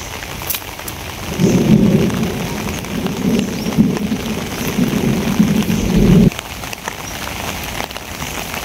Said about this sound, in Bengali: বৃষ্টির আস্তে আস্তে বাড়তেছে আর কি